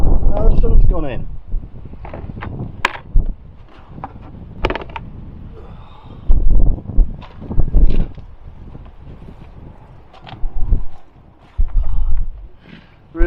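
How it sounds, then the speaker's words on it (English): Strong gusts of wind buffet the microphone in loud, rumbling bursts that come and go at a narrowboat, with quieter lulls between them. "it's bloody windy"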